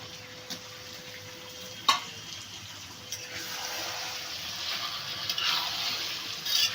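Cut potatoes go into a frying pan of meat cooking in a Bengali home kitchen, with a clatter followed by a rising hot sizzle and steady bubbling hiss.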